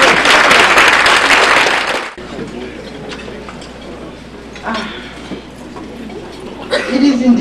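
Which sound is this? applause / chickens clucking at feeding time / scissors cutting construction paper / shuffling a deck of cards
applause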